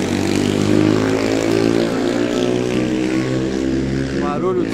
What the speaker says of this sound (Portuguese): O barulho dos carros atrapalha um pouco a nossa gravação